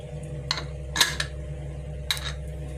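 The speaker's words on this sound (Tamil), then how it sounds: "இப்போ மூடிடலாம் மூடிட்டு வெயிட் போட்டுக்கலாம்" Metal lid clinks shut on a pressure cooker of mutton kuzhambu, then the weight is set on top: a few light, sharp metallic clinks and taps over a steady low stovetop hum.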